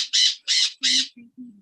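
A pet bird calls out indoors in a studio, giving three loud, harsh squawks close by, followed by two shorter, lower, softer calls.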